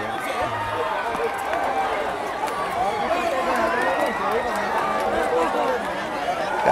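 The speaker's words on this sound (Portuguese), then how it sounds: "E a torcida invade o campo." Football fans at a municipal championship final in Moreilândia, Pernambuco, stream onto the field after the title is won, producing a continuous crowd rush of chatter, shouts and footsteps under an excited commentator's voice.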